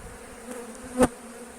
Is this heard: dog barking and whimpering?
no